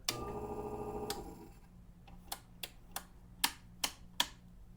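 A direct drive tattoo machine gives a brief close buzzing hum, then stops, followed by a handful of sharp, scattered clicks.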